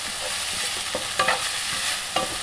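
Onion frying with ginger garlic paste in a pan, a loud steady sizzle broken by quick spatula stirs and scrapes, close by and without voices.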